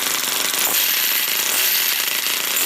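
A single-cylinder nitro RC engine starts and runs with a loud, steady, harsh buzzing clatter that continues without a break and without voices.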